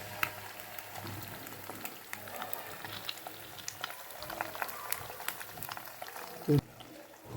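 An egg cooked half-boiled fries in a pan with a faint, steady sizzle and crackle, a sharp clatter breaking in near the end.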